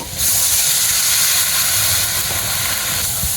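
Water poured into a hot pan of katla fish-head and cabbage curry with turmeric, salt and slit green chillies. It gives one loud, close, continuous hiss of steam that lasts a few seconds.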